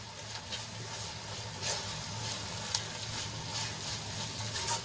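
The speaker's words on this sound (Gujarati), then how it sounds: "મસાલો સરસ રીતે ભીંડામાં આપણે મિક્સ કરી લઈશું ગેસની આંચ આપણે ધીમી રાખીએ છીએ" Spice masala made with peanuts and sesame being stirred into okra in a pan over a low gas flame, giving a steady soft sizzle and frying hiss with faint scraping, no voices.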